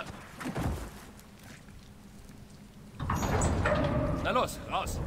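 A door opens in the Gears of War 4 video game, a sliding mechanical rush with rattling and clanking about three seconds in, after a short thump, under game ambience.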